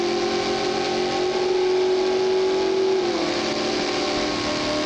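A Dodge Durango Trackhawk-style car in BeamNG.drive accelerating hard after the gas is floored, a loud sustained engine drone rising in pitch and then stepping down as it shifts, with no talk.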